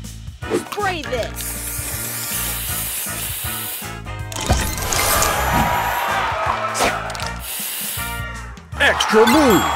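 Hissing spray burst in the Color Crush puzzle game, sounding amid dense game music, sparkly chimes and an announcer voice calling out moves.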